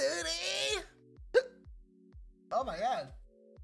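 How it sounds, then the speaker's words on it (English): A man hiccups during a GTA V roleplay session, sharp short catches breaking up his speech amid game sounds. "I got the hiccups."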